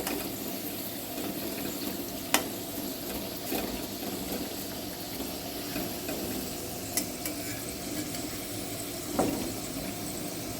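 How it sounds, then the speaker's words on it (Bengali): Potato French fries deep frying in oil hiss with a steady quiet sizzle, broken by a few brief clinks and scrapes as the pieces are turned, with no voices. "প্রত্যেকটা আলু উল্টে দিলাম, সবগুলো যাতে সমানভাবে ভাজাটা হয়"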